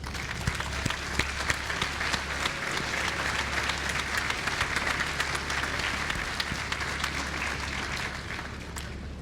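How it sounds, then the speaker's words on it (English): An audience at a commencement ceremony applauds steadily for about nine seconds, a dense even wash of many hands clapping in a large space, moderately loud and unbroken. "Let's give you a round of applause."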